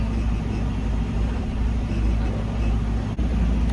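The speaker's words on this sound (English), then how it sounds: "this truck is so vibrating" Steady low rumble of an idling truck engine with strong vibration, close and continuous from a driver's cab, with no talk over it.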